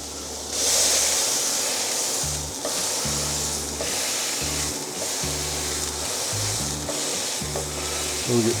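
Hamburger patties fry in a pan on the stove, giving a loud, constant sizzle and spatter up close, while a low rhythmic hum pulses on and off underneath.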